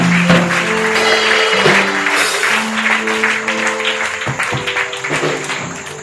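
A church congregation applauding, steady sustained clapping throughout alongside music with held tones.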